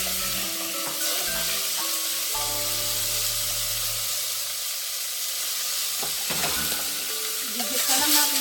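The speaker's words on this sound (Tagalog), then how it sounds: "And after that, idagdag natin yung ating pork." Pork is dropped into a pan of frying tomatoes for kare-kare, setting off a loud, continuous sizzle and hiss with stirring clatter, close and steady throughout, and no one speaks.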